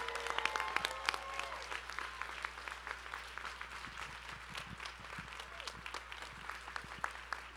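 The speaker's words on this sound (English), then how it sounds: "Let's give them a round of applause." An audience at a conference plenary honoring people living with HIV bursts into sustained applause, a steady patter of many hands clapping at moderate distance, lasting the whole stretch with a few louder individual claps.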